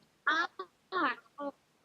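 Seagulls call in a short sequence of four or five harsh, nasal cries, the two longest standing out and shorter yelps between them, at moderate distance against a quiet background.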